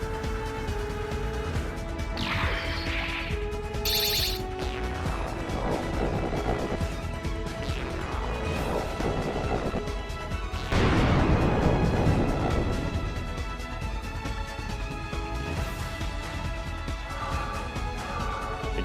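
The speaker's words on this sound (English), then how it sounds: "Atomic Generator Mark II prepared to fire." The Atomic Generator Mark II in a Minecraft world fires in a loud, sustained sci-fi discharge, a dense electronic roar with rising and falling swooshes and a heavier surge midway.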